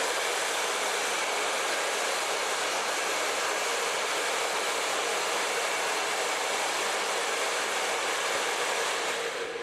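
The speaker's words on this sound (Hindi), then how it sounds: "मैं आपको 19 mm के ड्रायर ब्रश से यहाँ पे कर्ल करके बताऊंगा" A hair dryer blowing continuously and loudly at close range while the hair ends are curled with a 19 mm ceramic dryer brush, a steady broadband whoosh with no pauses.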